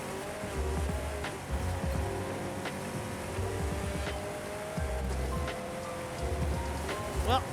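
Car engine in the racing video game Forza Horizon 5, a steady droning motor with shifting revs and occasional tire noise running continuously, with background music layered underneath.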